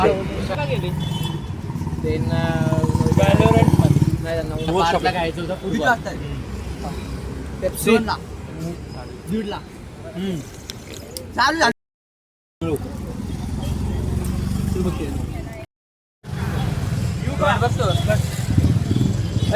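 A Hero Passion Pro motorcycle engine runs close by, loudest at the start and then fading in and out, with several people talking over it.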